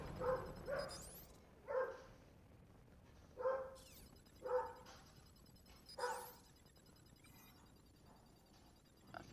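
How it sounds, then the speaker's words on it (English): Dogs bark repeatedly in spaced single barks and short pairs, fairly close, over a quiet electronic hum and faint computer game sounds, with no speech. "Sorry about the dogs, folks."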